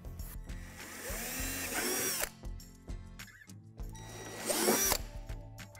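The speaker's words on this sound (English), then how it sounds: "Now drill out the 2 divots on the back edge of the sink." A power drill whirs in two bursts, biting into plastic divots on the back edge of a playhouse kit sink with a rising grind each time, close and loud, with brief pauses between.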